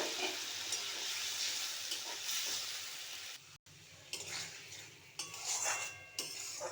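Chicken and potato pieces are stirred in a hot pan while cooking spicy chicken kosha: a steady sizzling hiss with scraping spoon strokes and occasional metallic clinks, close and continuous.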